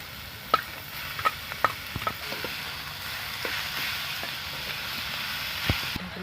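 Chicken fries in a pan with chopped onion and tomato for chicken patties. A steady close sizzle runs throughout, broken by a few sharp clicks and scrapes of a stirring utensil, with no voices.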